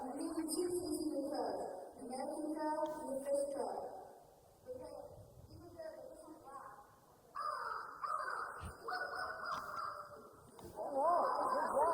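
A person imitates a crow, giving a string of loud, harsh caws in uneven bursts, and speech is also heard.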